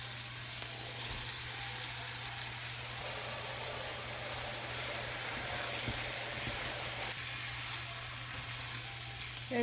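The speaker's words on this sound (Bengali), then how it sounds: "এবার আমি এর ভিতর ধুয়ে রাখা ব্রোকেন রাইস দিয়ে দিচ্ছি।" Broken rice with vegetables frying in a pan gives a steady, loud sizzle with a constant hiss that runs unbroken through the whole stretch, with no voices.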